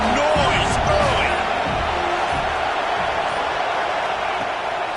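A stadium crowd at a football game roars in a dense, continuous wash of noise with no letup, while an announcer talks over it.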